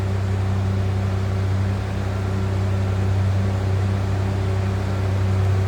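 A stock 2.9 liter V6 in a 1988 Ford Bronco II XL 4x4 idles with a steady, even drone and mild exhaust, running continuously without revving.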